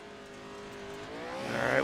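Race cars in an AMX club race lap a circuit, engine drone building steadily and swelling louder near the end as a car approaches and passes close by.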